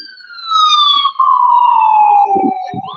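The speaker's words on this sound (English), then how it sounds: "I'm just trying to let that ambulance go by" An ambulance siren passes on a city street, a loud wailing tone sliding steadily downward in pitch as it goes by, with faint street noise underneath toward the end.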